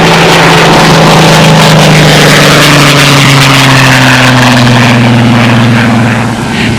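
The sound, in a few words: unlimited racing aircraft Miss Ashley 2 engine flying by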